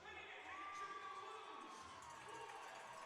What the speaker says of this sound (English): Big woos from the crowd here in First Arena